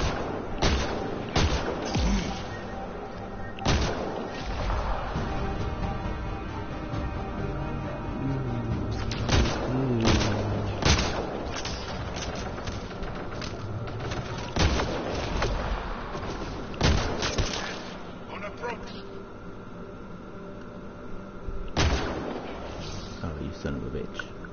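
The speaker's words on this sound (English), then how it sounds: "That's a turret." Turret gunfire in Mass Effect Andromeda, a dense, loud run of booming shots and sharp cracks over continuous game noise, with a voice talking at times over the firing.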